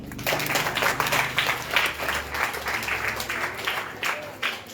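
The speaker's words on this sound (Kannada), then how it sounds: "ಜೋರ ಚಪ್ಪಾಳೆ ತಟ್ರಪ್ಪ" Children at a camp clapping loudly together, a dense, continuous burst of applause with a rhythmic pulse that fades slightly toward the end.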